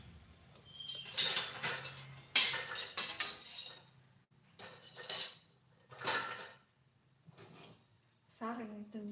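Wok and dishes clatter in bursts during home cooking of a simple Indonesian breakfast and lunch, sharp metallic clanks and scrapes coming and going close by, with people talking between and over the noises.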